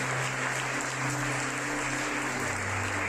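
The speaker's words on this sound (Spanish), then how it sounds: "¿Me puedes dar un fuerte aplauso al Señor," A church congregation at a Spanish-language worship conference gives the Lord a loud, sustained round of applause, a dense steady wash of clapping that fills the room from start to finish, with no voices over it.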